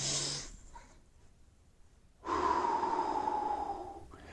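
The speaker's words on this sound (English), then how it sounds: "So inhale, exhale, come down. See how slow that breath is?" Slow guided breathing during a resistance band back workout: a soft breath, a quiet pause, then a long audible exhale that tapers off, close and alone.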